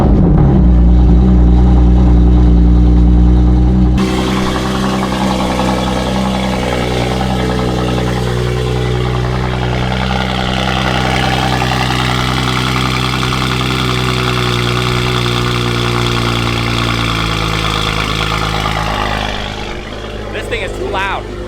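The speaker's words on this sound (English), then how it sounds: "Let's start the car." Varis widebody BMW M4 engine fires up loud and close with its valves closed, then settles into a steady, booming idle that continues alone for about twenty seconds.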